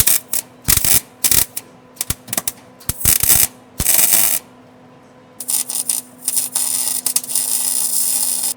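Thick metal being welded to thin metal: harsh crackling bursts of arc welding start and stop several times, with a longer sustained run near the end, all over a steady low electrical hum.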